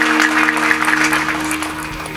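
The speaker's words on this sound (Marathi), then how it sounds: "टाळी वाजवा, टाळी वाजवा." At a kirtan, an audience claps quickly and steadily over a sustained musical drone. The clapping fades a little toward the end.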